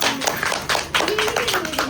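Applause at a family wedding farewell (vidai) gathering in India as the bride's gold and silver dowry is shown: a short burst of scattered hand clapping with lively room noise and faint voices underneath.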